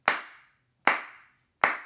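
Three sharp hand claps spaced evenly in a slow, steady marching beat, each ringing briefly before fading, with nothing else heard.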